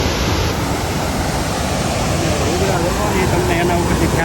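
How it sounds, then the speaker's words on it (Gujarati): Roaring rush of Jamjir Waterfall in Gir, Gujarat, a loud broadband wash of falling water filling the scene, with faint voices partly buried beneath it. "ખાસ કરીને અમે આ જમજી ધોધ બતાવવા માટે આવ્યા છીએ"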